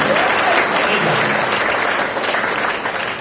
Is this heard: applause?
yes